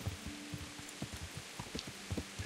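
Rain in the medieval video game Kingdom Come Deliverance, a steady soft hiss of falling water with scattered low thumps underneath, faint and unbroken.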